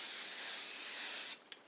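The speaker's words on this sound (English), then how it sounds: "You all know I like to spray them down when I first get them." Aerosol can of oil sheen sprayed in a steady, close hiss over a curly body wave headband wig, running continuously for over a second before trailing off into brief short bursts.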